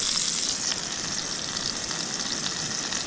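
Steak, tomatoes and mushrooms frying in a pan at a sub-zero wild camp: a loud, dense, continuous sizzle close by, steady with no talk.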